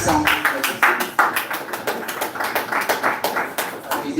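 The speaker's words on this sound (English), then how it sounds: "Please, a round of applause for him" Applause from an audience at a talk on careers in cloud computing: a steady spread of many hands clapping, moderately loud and continuous, with faint voices mixed in.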